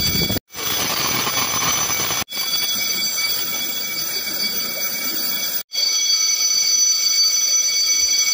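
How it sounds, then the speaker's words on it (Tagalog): An earthquake drill alarm at a provincial hospital rings continuously and loudly, a shrill steady tone broken by three short cutoffs before resuming, with no voices over it. "Eksaktong alas 9, tumunog ang alarm bilang hudyat ng lindol."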